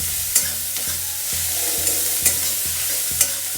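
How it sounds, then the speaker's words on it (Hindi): Aloo paratha potato stuffing fries in a pan with a steady sizzle, broken by repeated scraping taps of a spatula as it is stirred. "यहाँ स्टफिंग को फ्राई कर रही हूँ।"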